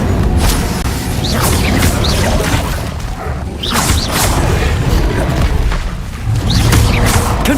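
Fire spell casting in the video game Hogwarts Legacy, a run of loud whooshing bursts and crashing booms repeating every second or so, heavy and close.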